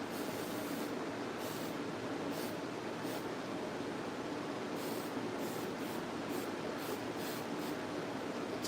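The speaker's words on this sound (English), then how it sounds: "Hairspray on." Hairspray hisses from an aerosol can in a steady, faint, continuous spray that runs for several seconds, with a slightly pulsing texture.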